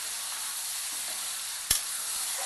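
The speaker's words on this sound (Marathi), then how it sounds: "याला आता परतून घेऊया आपण।" Onion and val beans with potato are sautéed in a pan, producing a soft, even sizzle throughout, broken once midway by a sharp utensil click. No one speaks.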